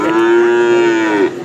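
A Simmental calf at a cattle market lets out one loud, close moo, a sustained tonal call lasting over a second before it cuts off, with faint market background behind it.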